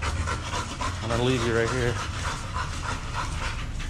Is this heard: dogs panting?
yes